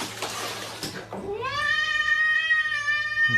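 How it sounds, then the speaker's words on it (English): A cat lets out a long, rising meow with clear harmonics after a startle, following a second of noisy clatter and movement; the call is close and fairly loud and holds steady to the end. "Jump scaring a cat."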